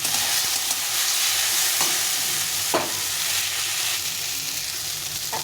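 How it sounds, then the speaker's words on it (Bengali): Vegetables for a Bengali fish-bone chorchori fry in a pan, a steady close sizzle broken by occasional scrapes and knocks of stirring, with no voices over it. "সবজিটা দেখো অনেকটা ভাজা ভাজা হয়ে গেছে, সেদ্ধ হয়ে গেছে"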